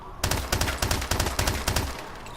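MP443 Grach pistol in Call of Duty Advanced Warfare firing a rapid burst of about six loud, sharp gunshots in quick, even succession, then cutting off, with no talk.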